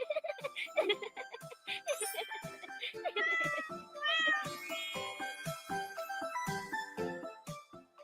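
A recording of several cats meowing plays, a rapid run of high, wavering meows and yowls, close and lively, one following another with hardly a pause.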